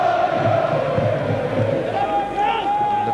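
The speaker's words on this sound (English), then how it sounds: "supporters being heard now" Football supporters in a stadium at an FA Cup third-round match, Yeovil Town against Liverpool, make a steady roar of crowd noise with loud chanting and cheering that carries on without a break.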